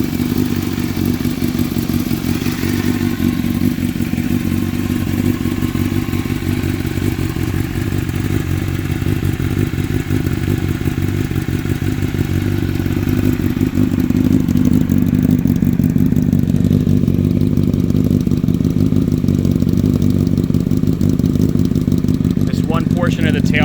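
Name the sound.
Honda CBR1000RR motorcycle engine cold start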